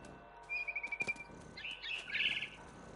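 A mama bird in the video game What Remains of Edith Finch gives a quick run of high chirps followed by a brighter trill, alone against quiet wind-like ambience.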